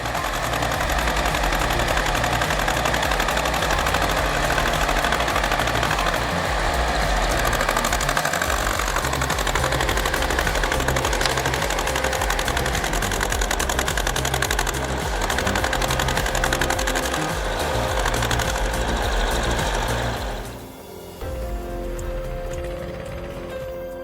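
An Ursus C330 tractor engine labouring in a tug of war against a Jeep, a loud rapid knocking diesel clatter that runs steadily, then dips briefly near the end before resuming.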